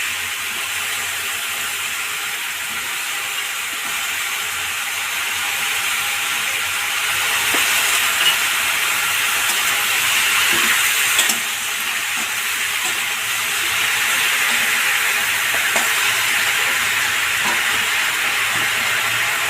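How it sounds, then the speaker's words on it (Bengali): Shish palong (spinach) stalks and tips frying in a pan give a steady, close hiss and sizzle that swells slightly midway and holds without any talk. "এবার শীষ পালঙের ডাটাগুলো দিয়ে দিচ্ছি আর শীষ পা আগাগুলো দিয়ে দিচ্ছি"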